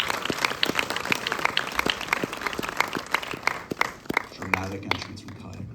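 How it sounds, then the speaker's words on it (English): Theatre audience applauding and cheering for the cast on an opening-weekend Saturday night, a dense, steady wash of claps with scattered sharp hand slaps, ending with a low hum and a brief voice. "Give it up, guys, for this amazing cast."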